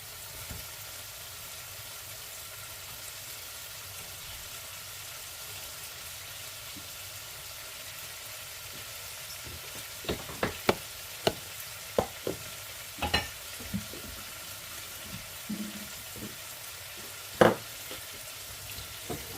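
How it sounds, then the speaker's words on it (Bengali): Tilapia fish frying in an oil-separated onion and tomato masala base, a steady low sizzle through the first half, then a run of sharp spoon scrapes and stirring clatters over the frying, no talking. "আমার অয়েল সব দিক দিয়ে উঠে আসছে। এখন আমরা ফিশ দিয়ে দিব।"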